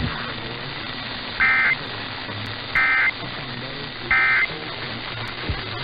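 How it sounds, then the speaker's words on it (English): Emergency Alert System test attention tones, three identical short electronic bursts about a second apart, moderately loud over a steady low hum and faint background noise. "This concludes today's test of the emergency alert system."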